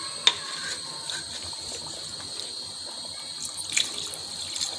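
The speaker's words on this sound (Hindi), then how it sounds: "अब मैं इसमें डालूँगी पानी।" Water pours into a cooking pot of potato, chickpea and mutton curry as a soft, steady trickle, close and fairly quiet, with a faint clink near the start.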